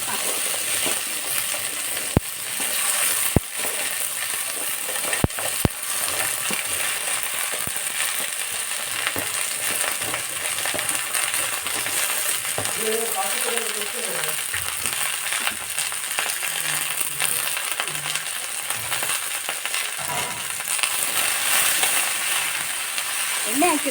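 Okra frying in oil in a pan for bendekayi sambar gives a steady, close, loud sizzle throughout, broken by a few sharp metallic clinks early on and some stirring later.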